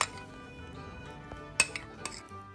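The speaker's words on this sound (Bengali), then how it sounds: "এবার এই ব্যাটারের মধ্যে মিক্স করতে হবে টুটি ফ্রুটি অ্যান্ড চেরি জেলি।" Spoon scraping and clinking against a bowl as tutti frutti and cherry jelly are folded into Christmas fruit cake batter, quiet soft stirring with a couple of sharp metallic clinks near the end.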